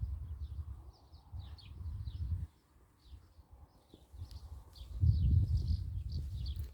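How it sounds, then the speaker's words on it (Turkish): Songbirds chirp and trill faintly in open highland countryside above a fertile river valley, with repeated short calls over a steady low rumble of wind and outdoor noise. "Umarım kuş sesleri size de geliyordur"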